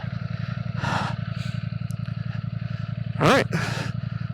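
A Dark Stealth Ducati Streetfighter V4S motorcycle idling with a steady low rumbling pulse, close, plus a brief rev blip near the end, as a rider speaks one short word over it.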